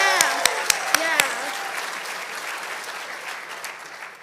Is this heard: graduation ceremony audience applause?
yes